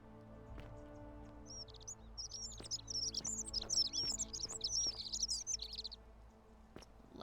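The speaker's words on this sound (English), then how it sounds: "Loud birds." Birds chirp loudly in a rapid, high, continuous twittering burst in the video game The Forgotten City, with a few soft taps and clicks underneath and a low hum beneath.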